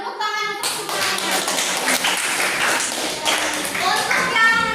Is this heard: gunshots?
no